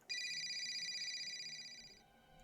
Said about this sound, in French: tu entends ton téléphone qui sonne